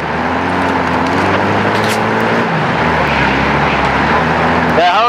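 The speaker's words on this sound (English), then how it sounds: "That helicopter's coming right over us, dude." A helicopter's rotor and engine roar in the video game Call of Duty DMZ builds loudly close overhead as a low, sustained drone.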